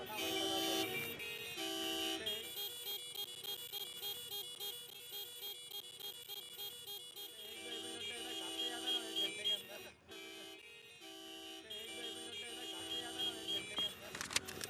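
Car horns toot repeatedly through peak-hour city traffic, with busy tonal bursts and steady street noise throughout while people talk over the din.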